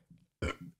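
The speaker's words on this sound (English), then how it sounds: "That's a burp from Liquid Death Water." A single short, fairly faint burp after drinking canned Liquid Death water, a low throaty belch with a quieter tail, alone with no talking.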